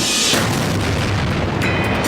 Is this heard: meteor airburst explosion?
yes